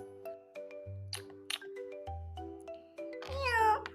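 A string of steady electronic tones plays, then a short, high cat meow rises and falls at the end, quiet and close.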